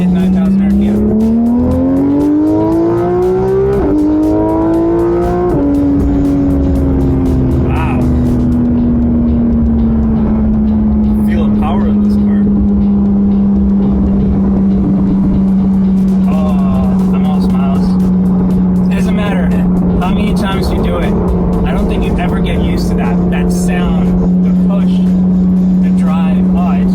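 A Porsche GT3 RS flat-six revs hard and loud, its tone climbing through gear changes toward 9,000 RPM, then holding a steady high drone for a long stretch as speech is faintly heard over the engine.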